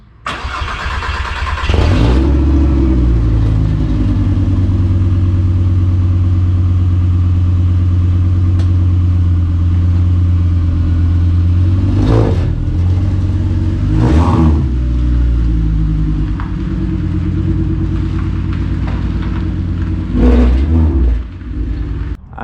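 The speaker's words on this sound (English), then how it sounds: "We're gonna go ahead and pull the Savoy out of the barn real quick." A VW Golf MK3 Savoy starts up and drives slowly out of a barn, its engine loud and close, idling and revving in several swells, with no talking.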